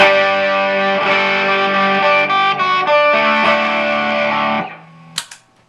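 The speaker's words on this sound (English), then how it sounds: "You can see that particular distortion. It's pretty good." An electric guitar plays sustained chords through a real tube overdrive pedal, thick and saturated classic rock distortion, ringing out before a brief squeal and silence.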